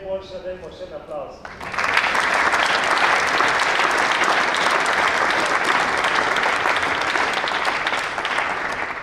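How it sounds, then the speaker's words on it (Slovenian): After a short spoken announcement, an audience at a Slovenian Armed Forces sports awards ceremony bursts into loud, dense applause that holds steady for several seconds. "Najboljša, dajmo še en aplavz."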